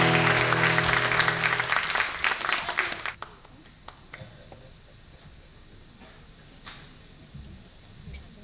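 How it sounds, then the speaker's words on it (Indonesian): Loud audience applause at an evening arts charity event at Taman Ismail Marzuki fills the first three seconds, then tapers into scattered claps and faint room noise. "Tepuk tangan yang meriah untuk Ibu Nining Alkari."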